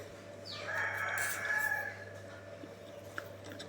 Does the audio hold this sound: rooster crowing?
yes